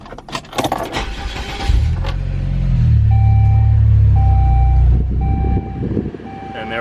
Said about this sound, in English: let's try just starting the car here